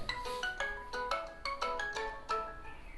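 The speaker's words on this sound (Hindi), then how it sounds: "फोन को बंद ही करना पड़ेगा मेरे को, बार बार कॉल आ रहा है।" A mobile phone rings with an incoming call, a melodic electronic ringtone of quick repeated bright tones in a steady rhythmic pattern, heard alone and moderately quiet.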